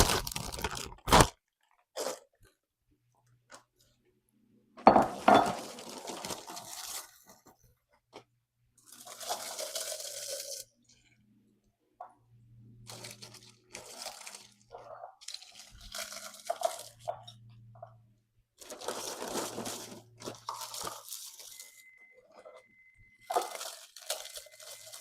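Potato chips being stirred into cookie butter give off crisp, scattered bursts of crunching and crackling, with pauses between each scoop, close and fairly quiet.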